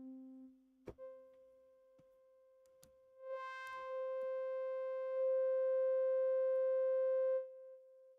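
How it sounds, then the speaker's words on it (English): UAD PolyMax synth playing sustained tones through a resonant filter, a low held note swelling into a bright, buzzy harmonic-rich tone as the filter opens, ringing steadily for several seconds before cutting off, with no voice. "the resonance of the filter also increases just how filtery the filter"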